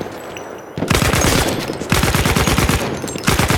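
Machine gun fire in Battlefield 1 multiplayer, loud rapid bursts of rattling shots that start suddenly after a brief quiet lull, then break off and resume several times, close and punchy.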